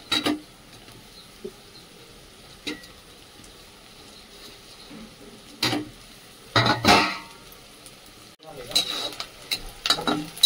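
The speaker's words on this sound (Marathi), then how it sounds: "हे बघा कांदा परतून घेते।" Onion sautés in a pan for a karadai greens bhaji, with a soft sizzle under sporadic spoon scrapes and stirring clatter, some strokes louder and closer, and no talking.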